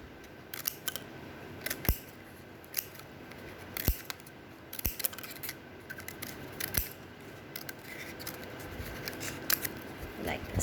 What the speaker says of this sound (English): After setting all these strips, we need to cut this extra part.